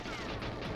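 Dense, continuous gunfire rattles loudly in GoldenEye 007 multiplayer, a burst of rapid shots packed tightly together with no gaps.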